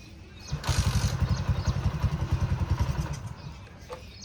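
A motorcycle being ridden, its engine thrumming in a quick, even pulse for about three seconds before easing off, heard fairly close over faint background noise.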